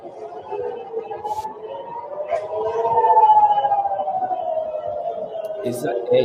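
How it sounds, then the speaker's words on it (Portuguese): An air raid siren wails with a slow rising and falling pitch, moderately distant, heard under a voice speaking over it. "a sirene foi tocada no local"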